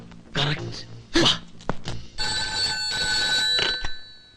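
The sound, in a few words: telephone ringing during a call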